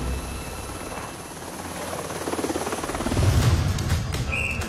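A French Navy helicopter lands on a multi-mission frigate, its rotor chopping steadily with a rhythmic beat and a rising roar as it comes close, with no talk.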